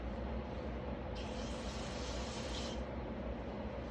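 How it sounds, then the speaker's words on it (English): Brake cleaner sprayed from an aerosol can onto dirty, oily VW 2.0T FSI oil pan and seal parts: one close, sharp hissing burst lasting about a second and a half, rising out of a quiet background and then cutting off. "Just using a little bit of brake cleaner just to get any residual oil that's on here off."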